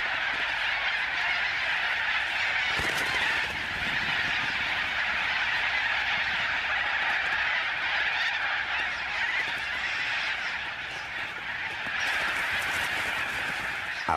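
A large flock of parrots in Australia raiding a stored harvest, filling the air with a dense, continuous chorus of loud, harsh squawks and screeches that stays steady throughout.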